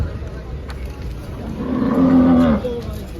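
A single Gir cow at a cattle market in Dhule moos once, a long low bellow swelling in the middle and fading, heard close over faint background noise.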